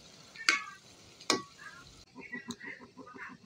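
Fried bitter gourd being stirred in a pan with salt and spice mix: two sharp scraping clacks of a spatula over a faint sizzle, then a lighter run of small taps and crackles, close and quiet, with no talk.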